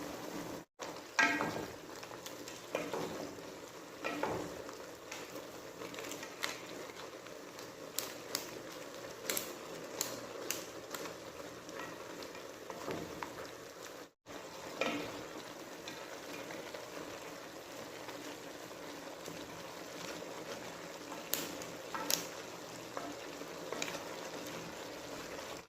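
Pancit rice sticks fry softly in a pan while being stirred, a faint steady sizzle broken by occasional scrapes and clacks of the utensil.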